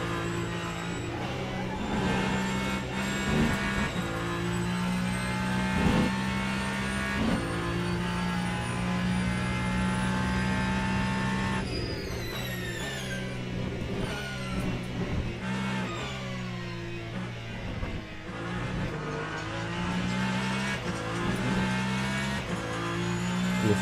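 A race car engine in the Le Mans Ultimate racing game at Le Mans, revving hard and then dropping as the throttle lifts, with shifting pitch sweeps, tyre squeal and repeated rises and falls through corners.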